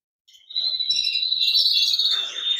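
Bright, continuous chirping and twittering from small birds in an aviary flight cage, close and lively, with overlapping high calls and no talking.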